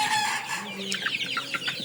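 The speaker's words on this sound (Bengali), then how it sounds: "দেখেন এখানে কতগুলো মুরগি" Small chickens in a poultry shed during cold winter cluck and chatter continuously, many birds overlapping close by, with no talk.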